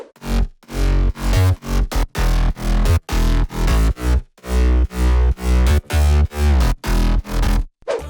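A future house bass line made in FL Studio pumps in short, punchy, distorted notes. The rhythm is steady and choppy with brief gaps between hits, and it plays loud and alone.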